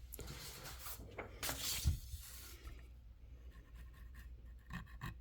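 An architect pen nib scratches across paper in short, quiet strokes, close up and faint, with a slightly rough, grabbing texture.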